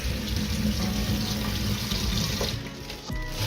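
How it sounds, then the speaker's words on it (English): Tap water runs steadily from a faucet into a plastic bag held in a sink, a continuous splashing rush that dips briefly near the end, with no talking. "we can take a bag and we can put a little bit of water in there"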